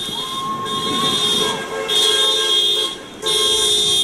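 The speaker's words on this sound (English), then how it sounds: "we were driving down Hillsborough Street within a block away and doing a lot of horn honking" Car horns honk steadily and close at a drive-by protest on Hillsborough Street, with overlapping tones that swell and dip in long blasts over a constant hum of traffic.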